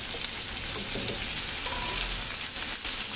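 Salmon sinigang ingredients sautéing in a pan, a steady close sizzle and crackle of frying that holds constant throughout with faint stirring and no talk.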